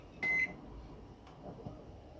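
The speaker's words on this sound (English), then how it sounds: "So when my timer goes off, I will pull them out and put them in the ice bath" A kitchen timer gives one short, clear electronic beep in a quiet kitchen, followed by faint low background noise.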